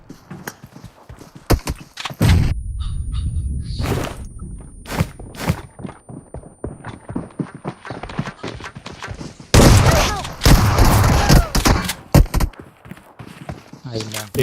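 A video game gunfight in a close-range 2v2 mode, with sharp bursts of gunfire and rapid volleys, some single shots and some dense clusters, under excited talking.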